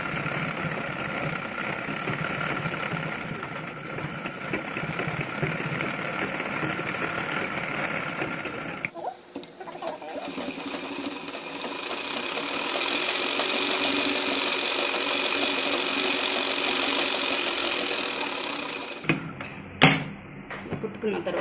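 A sewing machine stitches piping onto the front of a basket-style frock for a three-year-old girl. Its motor whirs steadily and closely, stops briefly, then runs again, with someone talking over most of it.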